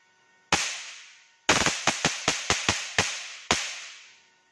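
Small 10-ohm electronic components in a mini electric fish shocker pop and burst in sharp, loud cracks: one bang, then a rapid cluster of about seven snaps, then a final crack, each ringing off briefly.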